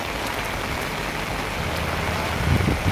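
Steady rain falls outdoors, a dense, even hiss of drops on surfaces that stays constant and fairly loud throughout, with a few heavier patters near the end and no voices.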